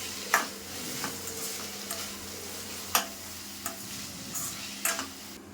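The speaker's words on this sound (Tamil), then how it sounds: "வெங்காயம் தக்காளிக்கு தேவையான உப்பை மட்டும் போட்டு நல்லா ஒரு வதக்கிடலாம்." Onion and tomato sauté in a pan with salt, a soft steady sizzle broken by several sharp clicks and taps of a spoon stirring against the pan.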